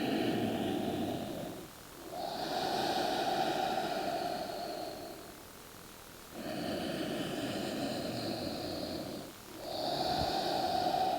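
Long, deep breathing in a yoga child's pose, slow airy inhales and exhales of several seconds each with short pauses between, close and soft.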